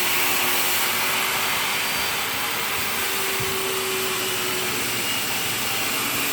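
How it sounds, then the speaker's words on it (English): A saw rips through plywood in a workshop, a steady, loud, unbroken whine that holds throughout with no talking. "He's ripping some plywood."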